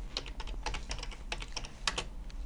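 Keys on a computer keyboard click in a quick, uneven run of close, soft taps with steady low background hum.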